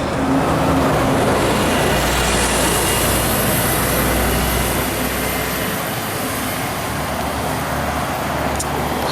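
Buses rumble past on a sunny Brisbane street, a loud, continuous roar of engines and road noise up close that swells and eases slightly as vehicles pass, with no voices over it.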